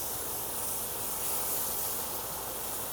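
Loud steady sizzle as the contents of another pan are poured a little at a time into a hot roux for Cajun chicken fricassee, a broad continuous hiss with no talking.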